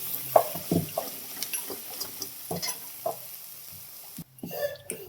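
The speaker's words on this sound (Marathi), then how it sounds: "वाटण टाकले सगळं तेलामध्ये. आता चांगलं भाजून घेते." Ground spice paste sizzles and crackles faintly in hot oil with cumin and mustard seeds, broken by scattered scraping stirs of a spoon, then a brief pause before the sizzling resumes.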